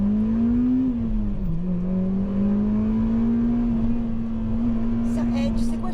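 A Honda Civic Type R EP3 holds a steady, droning engine note with a slight dip in pitch partway through. It sounds close and constant under people talking.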